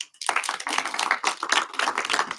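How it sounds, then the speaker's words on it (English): Audience at a demo night in Cornwall clapping together on request, a dense burst of many hands starting abruptly and holding steady for about two seconds, fairly close and without talk over it. "Can everyone clap?"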